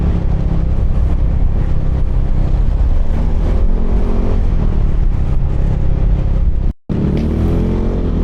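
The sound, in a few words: Yamaha Nmax 155 scooter accelerating uphill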